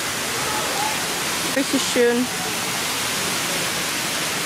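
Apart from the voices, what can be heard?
waterfall in downtown Houston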